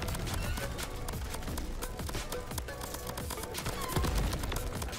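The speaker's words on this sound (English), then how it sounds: "Oh, it's got like a machine gun. It's just like vomiting rapid fire." Rapid machine-gun fire from a giant ant in the game Crab Champions, a dense continuous rattle of quick shots running through the whole stretch with a heavier thump near the end.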